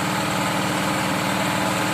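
A plowing machine tilling a rice paddy runs with a continuous, even engine rumble and a fast pulsing throb, close and loud throughout.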